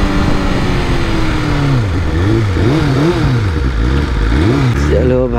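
A BMW S1000RR motorcycle engine idles and revs close by while being parked, its pitch rising and falling in repeated wavering blips over a steady loud running drone.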